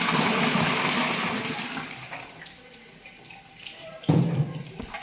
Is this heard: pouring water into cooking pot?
yes